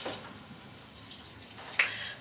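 Tap water runs and splashes as carrots and mushrooms are rinsed in a kitchen sink, a soft, short hiss of flowing water with a few brief splashes.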